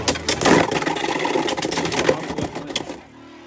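Beyblade X tops spinning and clashing in a plastic stadium just after launch, a dense rattling whir with rapid metallic clicks and scrapes for about three seconds, then fading to a quiet hiss.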